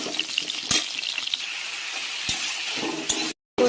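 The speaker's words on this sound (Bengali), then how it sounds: "চিংড়ি মাছটা একটু হালকা করে ভেজে নিলাম" Prawns sizzle and crackle as they fry lightly in a wok, a steady close hiss broken by a few sharp stirring knocks, followed by a short silent gap.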